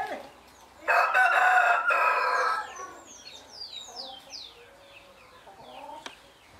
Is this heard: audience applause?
no